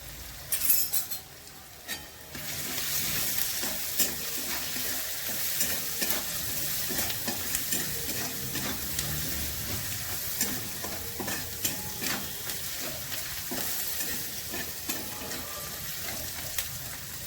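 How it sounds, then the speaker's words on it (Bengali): Steady, close sizzling of onions frying in a pan with turmeric and salt for palak paneer, with occasional stirring scrapes and no talking. "পেঁয়াজ ভাজা হয়ে গেছে"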